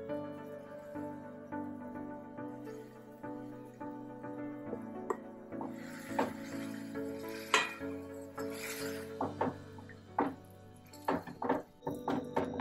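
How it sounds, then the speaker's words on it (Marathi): Grated potatoes stirred into salted boiling water in a pot, being cooked for Kutchi dabeli, with a spoon giving repeated clinks, scrapes and knocks against the pot over a low bubbling hiss. "आता आपल्याला हे किसलेले बटाटे त्यामध्ये टाकून घ्यायचे"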